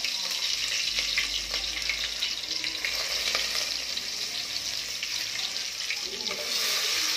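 Chopped onion goes into hot oil with chillies and curry leaves for a Maharashtrian kadve val birde, setting off a loud, continuous close-up sizzle that holds steady throughout with faint crackles.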